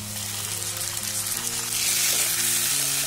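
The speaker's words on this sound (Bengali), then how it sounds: "এবার আমি যে টমেটোটা গ্রেট করে রেখেছিলাম সেটা দিয়ে দিচ্ছি" Onion and potato frying in a pan as grated tomato goes in, a steady close sizzle with soft stirring that swells slightly louder partway through; no voices.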